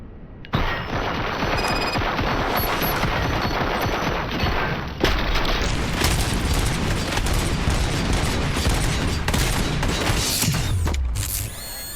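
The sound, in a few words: gunfire from the video game RoboCop: Rogue City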